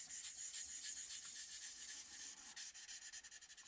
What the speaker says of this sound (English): You actually hear the difference in the sanding, as the rougher area is going to be a bit louder.